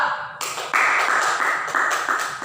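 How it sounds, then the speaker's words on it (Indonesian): A classroom group breaks into applause for a winning team in a physics lesson, a dense, steady wash of many hands clapping together, loud and close, swelling after a brief quiet start. "beri tepuk tangan kepada kelompok 2"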